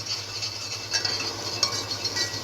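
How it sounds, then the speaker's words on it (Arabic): Three crushed garlic cloves dropped into a pot of hot ghee, giving a steady close sizzle with faint scraping and stirring clinks throughout, no voices. "معايا بقى حلة على النار وحطيت عليها معلقة سمنة، وهنزل عليها ب3 فصوص ثوم مهروسين"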